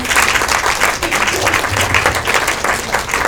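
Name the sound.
audience applause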